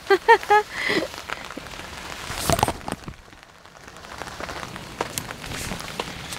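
Rain falls outdoors on potted plants and bulbs set out in the open, a dense steady patter of drops with a few louder splats and brief brighter bursts near the start.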